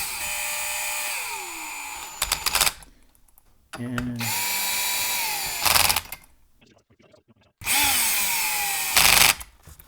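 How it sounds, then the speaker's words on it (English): A cordless drill tightening bolts during a Wilwood brake upgrade whirs in three long bursts, its pitch dropping as it bogs down under load, with a voice briefly heard between runs. "this is not an impact, this is just a cordless drill."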